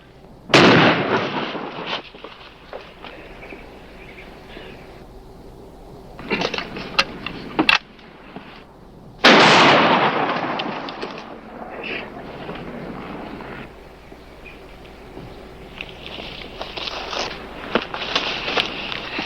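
Two sharp shotgun blasts ring out in a Western television shootout, the first near the start and a louder, longer-echoing one around the middle, with a smaller crack in between and shuffling and movement filling the gaps.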